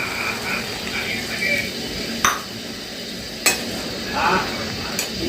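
Vegetable curry being stirred and mixed in a pan, with soft sizzling and simmering plus a few sharp metallic clinks of the spoon against the pan, close and moderately quiet.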